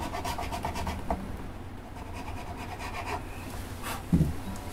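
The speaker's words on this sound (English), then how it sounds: "So that file was binding a little in that slot, so it was a little bit on the narrow side." Nut file working the slot of an acoustic guitar nut, soft rasping strokes in an uneven rhythm, close and quiet, ending with a slightly louder scrape.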